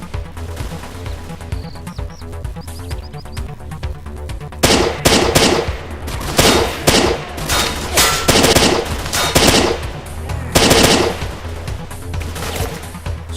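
Short bursts of rifle fire in a S.T.A.L.K.E.R. mod using rifle-caliber armor-piercing rounds, loud clusters of several sharp cracks repeating with brief pauses, after a quieter stretch of ambient background at the start.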